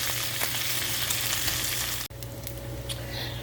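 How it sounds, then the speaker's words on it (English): Bacon frying in a pan gives a steady, loud sizzle and crackle with a brief break near the end, with no voices over it. "Y'all know how to cook bacon."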